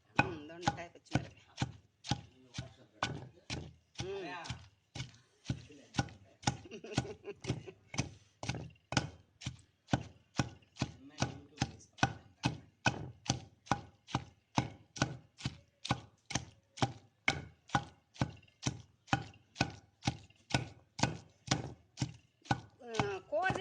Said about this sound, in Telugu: పచ్చిమిరకాయలు వేసి అలా బాగా కొట్టుకొని బాగా మెత్తగా చేసుకోండి, దంచుకోండి బాగా.